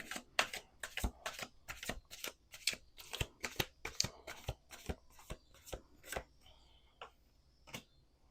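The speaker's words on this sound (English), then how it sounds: "we're going to do 2 more shuffles" A tarot deck riffled and shuffled repeatedly, crisp rapid bursts in a steady rhythm, close and clear with no talking.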